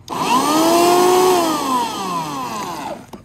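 An electric lawn dethatcher runs with a loud, close motor whine that surges steadily, then slowly drops in pitch as it winds down near the end.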